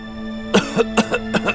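A man in a period drama, playing a servant down with a chill, coughs in a run of five or six short, close, loud barks with a throat-clearing quality and no talk between them.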